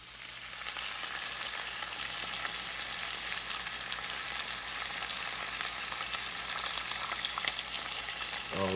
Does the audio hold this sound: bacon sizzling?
yes